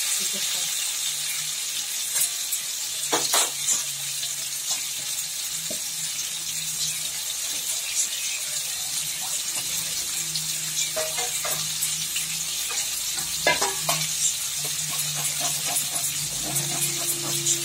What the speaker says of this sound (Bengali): আলু সব ভাজা ভাজা হচ্ছে